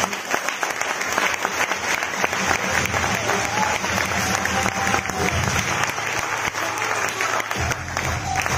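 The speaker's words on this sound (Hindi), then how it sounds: "मैं चाहता हूं उनके लिए आप एक बार बड़ी जोरदार ताली बजाएं" A seminar audience breaks into strong, sustained applause, a dense roomful of clapping hands holding loud and steady throughout with a faint hum beneath.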